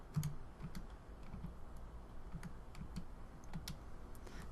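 Numbers tapped into a calculator, a quiet run of light, irregular clicks spread evenly through the moment, with a faint hum underneath and no talking.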